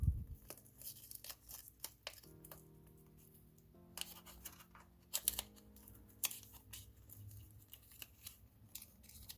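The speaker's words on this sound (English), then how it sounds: "I will just mask a piece of tape around it" Masking tape is torn and pressed down in a car's engine bay, giving quiet scattered rips, crinkles and taps in an irregular rhythm, close by with no talking.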